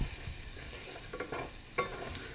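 Minced garlic sizzling in a pan for one-pan chicken and rice, a steady close hiss with a few brief stirring scrapes and one sharp clink.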